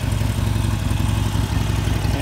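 A 2012 Harley-Davidson Forty-Eight motorcycle on stock pipes idles steadily, its V-twin putting out a loud, close, continuous low rumble and throb with a faint mechanical clatter.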